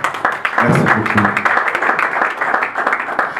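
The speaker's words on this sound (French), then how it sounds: "J'aimerais bien que vous vous applaudissiez pour vous-même." A large conference audience of young notables in Kinshasa bursts into sustained, dense applause, loud and close, with many hands clapping at once for the full length and faint voices mixed into the crowd noise.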